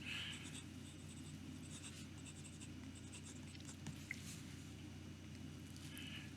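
A Jinhao 01 metal fountain pen, a Parker Duofold clone tuned to write very wet, scratches softly across paper in a close, quiet series of light strokes and scritches.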